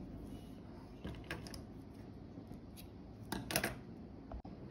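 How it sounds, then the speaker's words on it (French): Scissors snip crochet yarn while finishing an amigurumi sheep: a few quiet, close cuts over faint handling noise, with a sharper double snip near the end. "Je vais garder du fil pour la couture et couper."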